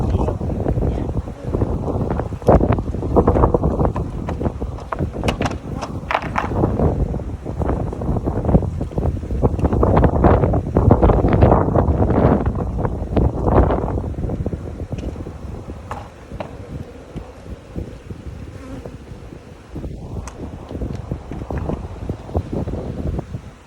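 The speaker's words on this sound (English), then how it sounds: "So windy." Strong wind outdoors during a beehive nuc installation, buffeting the microphone in loud, rough gusts that rise and fall over some twenty seconds, easing toward the end, with no clear speech.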